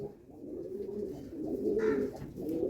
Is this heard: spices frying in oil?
no